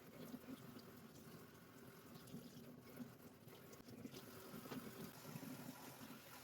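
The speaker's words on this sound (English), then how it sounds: "I'm just running them through some cold water" Cold tap water runs steadily over raw shrimp in a kitchen sink, a continuous close splashing and trickling rush with no voices.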